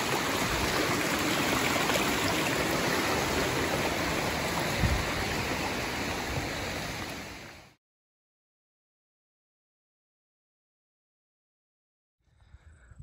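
Water rushes steadily along Comer Creek, a dense even flow that suddenly cuts off into silence.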